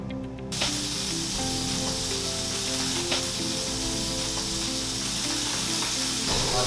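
Food set into hot oil in a pan breaks into a sudden, loud sizzle after a brief quiet moment, then fries in a steady close hiss with a faint clink partway through and no talk.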